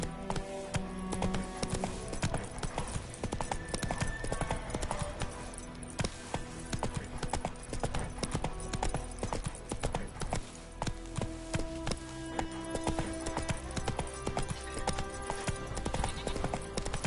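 Horse hooves clip-clop steadily in The Witcher video game, a brisk, regular rhythm running throughout over layered game music and ambience.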